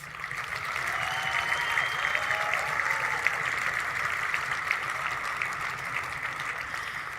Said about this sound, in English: I think they've earned one more massive round of applause.